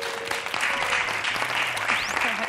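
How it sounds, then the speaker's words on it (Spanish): Studio audience applause at a televised quiz game show, a steady, dense wash of clapping that fills the whole stretch at moderate level, with a faint voice and a few tonal sounds underneath. "Este aplauso es para ti, Avian."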